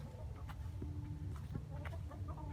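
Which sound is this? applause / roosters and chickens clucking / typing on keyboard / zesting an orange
roosters and chickens clucking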